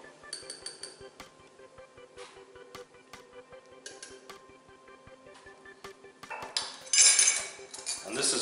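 Metal spoon clinking and scraping against a container while scooping ground coffee for a latte, a steady run of light chinks close by, ending in a louder rattling scrape and pour.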